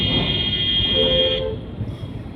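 Car horns toot in a jammed road in Uttar Pradesh, a sustained honk with another shorter horn over idling traffic rumble, loud and near, with faint voices in the background.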